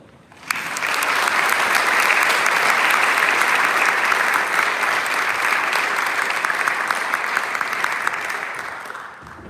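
An audience at a college awards ceremony breaks into sustained applause, a dense wash of clapping that swells quickly, holds steady for several seconds and then tapers slightly.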